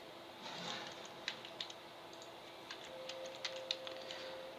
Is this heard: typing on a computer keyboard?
yes